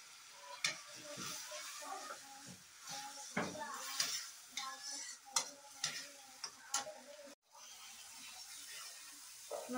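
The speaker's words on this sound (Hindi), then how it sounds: "मसाला भून गया" Garam masala roasts in a kadhai, giving a soft sizzle with frequent scrapes and clinks of a spoon stirring against the metal, close and moderately quiet.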